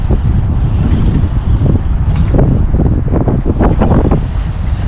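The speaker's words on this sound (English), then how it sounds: "But yes, it is windy." Strong wind buffets the microphone on an open boat out fishing for snapper, a loud, steady roar with rushing gusts and some water slap throughout.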